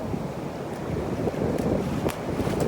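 Atlantic Ocean waves wash onto a beach, a continuous broadband rushing surf heavily mixed with wind noise buffeting the microphone.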